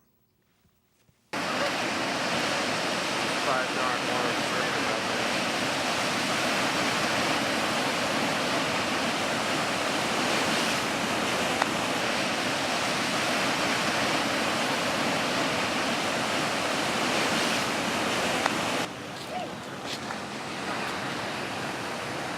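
Ocean surf at La Jolla, California, a broad, steady wash of breaking waves that begins abruptly and rolls on loudly and continuously, with some wind.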